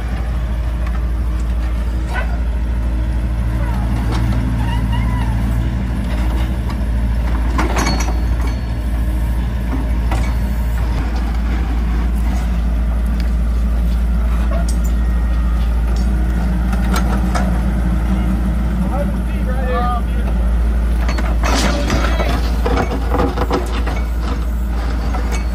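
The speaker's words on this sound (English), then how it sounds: "They got the truck backed up here." Truck engine idling loud and close while backing up to deliver a tornado shelter, a continuous deep rumble with occasional clanks and hisses throughout.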